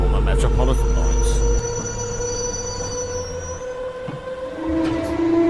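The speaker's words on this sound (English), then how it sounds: "Here we see two District Line trains arriving and departing Whitechapel." London Underground District Line trains arrive at and depart from Whitechapel station, with steady rumbling rolling stock, squealing wheels on the rails and a heavy low drone that eases off partway through.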